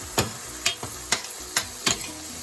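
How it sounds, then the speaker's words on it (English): Carrots, corn and peas being sautéed in a pan on low heat, with a soft sizzle punctuated by five sharp stirring scrapes at an even pace, close and fairly quiet. "so what I'm doing now, I am just gonna saute this a little bit"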